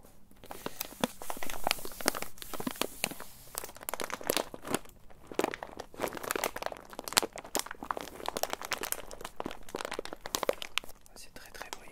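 Shopping packets being handled, with continuous crinkling and crunching of plastic wrapping close up, dense and busy throughout, while a person talks softly over it.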